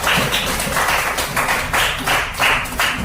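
A classroom of students claps hands together in rhythmic bursts, fairly close and lively, with a steady pulsing pattern and no speech over it.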